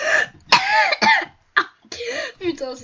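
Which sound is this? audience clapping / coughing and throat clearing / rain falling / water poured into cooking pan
coughing and throat clearing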